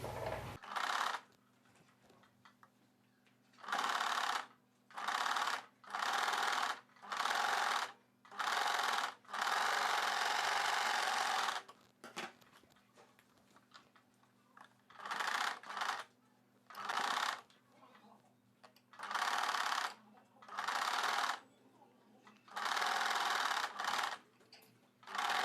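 A sewing machine stitches the shoulder joint of a blouse in repeated close bursts of rapid whirring, each lasting about a second or more, with quiet pauses between them.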